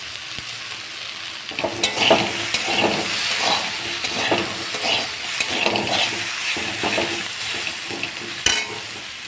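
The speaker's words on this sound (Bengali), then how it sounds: "একদম ভেন্ডিটা ভাজতে ভাজতে এই যে শুকনো হয়ে গেছে" Okra frying and drying out in a hot pan, a steady sizzle punctuated by repeated scraping strokes of a stirring spoon, close and fairly quiet.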